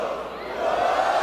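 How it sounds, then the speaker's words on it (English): A wrestling arena crowd roars steadily during a Bryan Danielson versus Roderick Strong Ring of Honor match, a dense, sustained wash of cheering that swells slightly louder in the second half. "Listen at the crowd."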